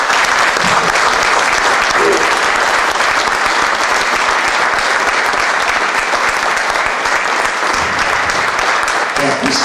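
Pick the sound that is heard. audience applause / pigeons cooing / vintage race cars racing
audience applause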